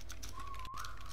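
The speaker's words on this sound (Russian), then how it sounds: "Саш, свистни еще раз." A single sustained whistle in the Roblox game 3008, a thin steady tone that rises slightly at the end, heard once over low background game noise.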